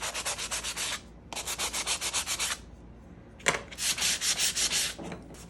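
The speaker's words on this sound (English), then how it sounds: "Make them feel like they've been just scuffed up just a little bit." Laser-cut calendar pieces are scuffed at the corners and sides to distress the edges, a close rhythmic back-and-forth rasping in three quick bursts of strokes with short pauses between.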